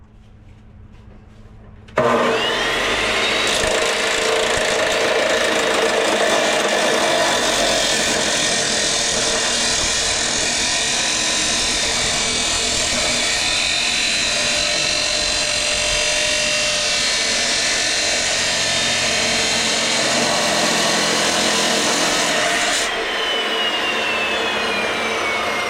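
A power tool, likely an angle grinder, cuts a short 4-inch metal piece for a ground-anchor slackline setup; after a brief quiet start it roars loud and steady for about twenty seconds, then stops.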